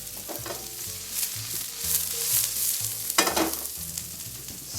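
Oregon morel mushrooms sauté gently in heated extra virgin olive oil with a steady soft sizzle, broken by occasional scrapes and stirring clatter from a utensil in the pan, close up and without talking.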